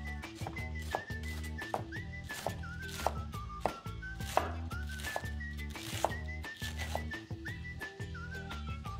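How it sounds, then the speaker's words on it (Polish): Quick, steady knife chops on a board, finely slicing cabbage into thin strips, regular, under loud background music with a whistled melody. "W międzyczasie pokroję kapustę. Takie cieniuteńkie paseczki."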